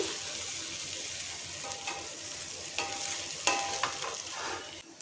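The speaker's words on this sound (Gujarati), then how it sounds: "હવે આપણે એમાં ભાત ઉમેરીશું। બધું જ આપણે મિક્સ કરી લઈશું।" Cooked rice is stirred into paneer pulao in a pan, producing a soft, continuous sizzle with several sharp scraping clicks from the utensil against the pan, close and without talk.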